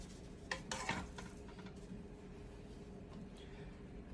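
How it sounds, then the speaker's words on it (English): Ground beef with onions and seasoning being stirred in a pan, giving soft scraping and clinking of a utensil against the pan with a faint sizzle, busiest in the first second and then quieter and steady. "I'm going to go ahead and kind of mix all this in together."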